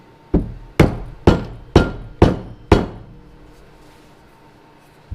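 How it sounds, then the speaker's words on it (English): Six evenly spaced, dull thuds from a rubber mallet striking close by during a Sea-Doo RXDI jet pump repair, each blow ringing briefly before the next, followed by quiet. "Rubber hammer because it's a little less impact."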